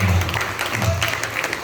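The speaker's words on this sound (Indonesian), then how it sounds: "Tepuk tangan buat Elko dulu ya." A short burst of audience clapping for the master of ceremonies, Elko, at a formal gathering, a brief dense patter over a low hum, lasting under two seconds.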